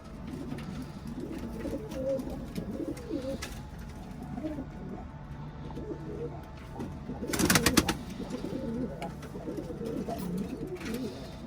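Pigeons coo softly and repeatedly in a loft housing young birds a few months old, their low calls continuing under speech with a brief louder flurry of fluttering or movement midway.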